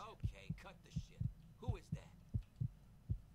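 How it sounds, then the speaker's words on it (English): A heartbeat sound effect from the Fallout 3 video game pulses in a steady paired thump-thump rhythm, about two beats a second, low and close over a faint hum. "Does the heartbeat mean combat?"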